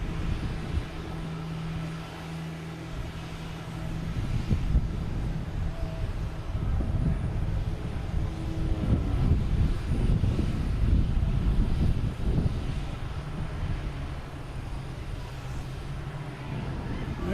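Cape Air airplane at Boston Logan Airport, a steady low engine rumble and drone that swells in the middle and then eases, heard from a distance over wind noise.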